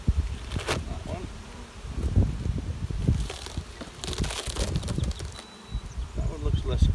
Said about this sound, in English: Three to four frames of bees